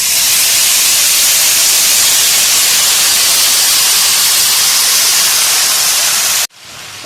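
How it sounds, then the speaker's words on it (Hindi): Sugar syrup poured onto hot roasted semolina for suji halwa sets off a loud, steady, hissing sizzle that holds at full strength for several seconds, then cuts off abruptly. "अब इसमें शीरा ऐड कर रही हूं।"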